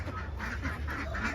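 Ducks on a small backyard farm give a brief burst of nearby quacking, a few rough calls in quick succession.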